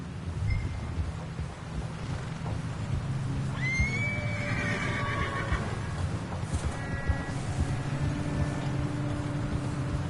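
A horse in Red Dead Redemption 2 gives a clear, fairly close whinny partway through, over continuous clip-clopping hooves and gusty wind noise.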